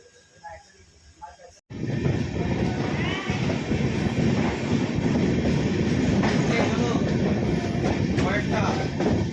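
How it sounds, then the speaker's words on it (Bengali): A train, the Uttar Banga Express, runs into Ahmadpur station in India: after a brief quiet start, a loud, steady rumble of wheels and carriages with clattering rail noise fills the rest, heard from on board. "এই মুহূর্তে আমাদের ট্রেন এসে পৌঁছেছে আহমদপুর স্টেশন"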